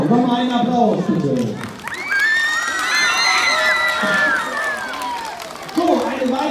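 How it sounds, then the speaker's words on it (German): Children and adults at a school sports day cheer and clap as kids receive bronze medals, a lively crowd of shouts, whoops and applause swelling through the middle and easing off near the end, with voices calling out throughout. "So, nochmal einen Applaus, bitte."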